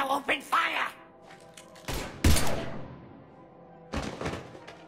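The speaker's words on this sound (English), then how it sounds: "Now open fire!" Mass Effect 3 combat with sharp thumping shots and bursts of gunfire breaking out in short clusters, interleaved with a voice speaking, close and moderately loud.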